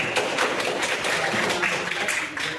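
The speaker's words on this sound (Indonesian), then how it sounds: "Tepuk tangan untuk kelompok." Students in a classroom applaud a group, with brisk, continuous clapping of many hands close by throughout the moment and no speech over it.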